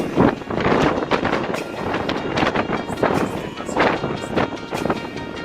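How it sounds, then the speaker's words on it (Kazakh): Strong wind buffets the microphone in loud, rumbling gusts that rise and fall, with faint voices underneath. "қатты жел"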